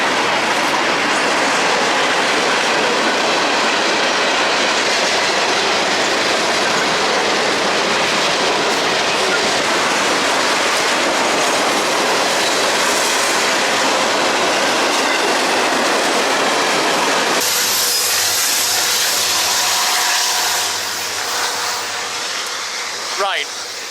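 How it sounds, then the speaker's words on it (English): A train rolls steadily past in the Appalachian Mountains near Abingdon, Virginia. Its dense rumble and wheel clatter stay loud and close for about twenty seconds, then it thins out as the last cars pass. "Wait a minute, do I hear a train?"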